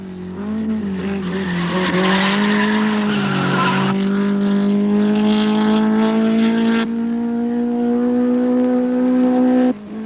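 An Alfa Romeo GTA and a Ford Cortina race through the S's at Sandown, their engines blaring loud and close, one sustained rising howl with rough tire-scrub texture, holding steady before cutting off near the end.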